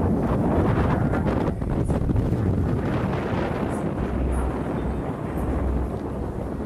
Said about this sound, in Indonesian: Anginnya gede bro.